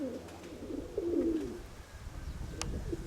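A pigeon coos in low, rolling phrases nearby, one around the first second and another near the end, with faint background chirps and noise between.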